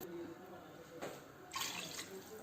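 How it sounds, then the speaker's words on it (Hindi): A soft stream of water splashes into a cooking pot of mutton and potato curry nearby, faint and brief, rising slightly toward the end. "अब मैं पानी शामिल कर रही हूँ इसमें"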